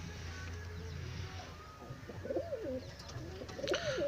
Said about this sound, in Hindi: ये देखिए दोस्तों, ये है वो कबूतर।